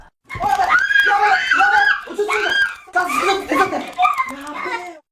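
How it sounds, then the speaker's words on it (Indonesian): A woman screams at live shrimp in loud, shrill, close bursts separated by short pauses. Breathy laughter-like sounds are mixed in. "Ini loh bedanya jeritan artis JAV sama cewek biasa."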